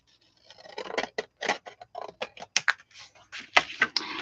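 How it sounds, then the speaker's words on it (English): Scissors snip through paper to trim a tag for a journal cover, giving a quick series of crisp close cuts and rustles with an uneven rhythm, fairly loud and without talk. "So, let's cut this part off."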